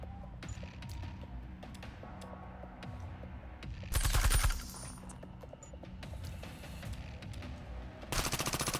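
Turret machine guns in the Reverse Collapse: Bakery Girl video game fire in sustained bursts, with a louder, denser volley near the middle and another at the end over a busy game soundscape.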